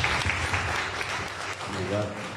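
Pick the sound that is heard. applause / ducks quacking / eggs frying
applause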